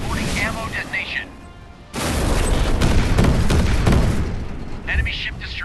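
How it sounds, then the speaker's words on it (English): A warship's ammunition detonation in the mobile naval game Warships Mobile bursts as a loud sustained boom and roar, bracketed by a synthetic voice talking over game sounds before and after. "Critical hit. Reporting ammo detonation."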